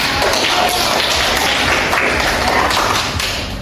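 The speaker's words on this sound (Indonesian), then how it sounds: "Tapi tepuk tangan dulu buat kita." A group of people clapping their hands together during an online training session, a steady, dense patter of claps at close range that holds evenly throughout and tapers slightly at the end.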